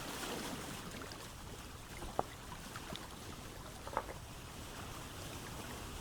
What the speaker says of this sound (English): Why is water so doggone loud?